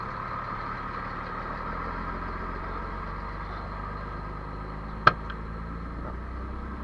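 A truck idles on a street beside construction work and then pulls away, a low steady engine rumble at moderate distance with one sharp click or knock partway through.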